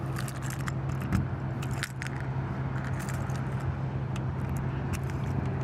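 Keys jangle in irregular light clinks while someone searches for the right one at a 2024 Newmar New Aire 3543 motorhome, over a steady low engine-like hum.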